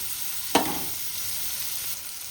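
Chicken liver frying in a pan: a sharp sizzling burst as it hits the hot surface, fading into a steady crackling fry that continues to the end.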